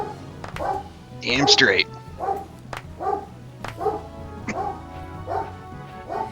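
A dog barks repeatedly in the background, about eight short woofs in an uneven rhythm, with one louder yelping burst early on, while someone talks over it.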